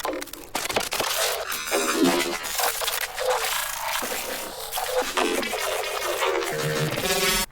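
Dense glitchy texture-maker sound effect from Bitwig for IDM hyperglitch music, a loud continuous wash of noisy, crackling, shifting tones with stuttering pitched fragments, heard alone for several seconds.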